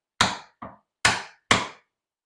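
A mallet driving a narrow chisel into wood, four sharp close knocks in under two seconds, the second one lighter, each ringing out briefly in silence.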